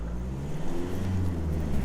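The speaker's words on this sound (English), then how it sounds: "There's a car wants to come past." A car approaches from behind to pass on a road, a steady low engine drone and tyre rumble that holds fairly loud and close throughout.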